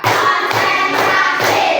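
A classroom of pupils claps hands together in a counted sequence of separate bursts with short pauses between them, fairly close and with no talking.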